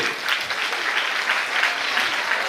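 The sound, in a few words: church audience applauding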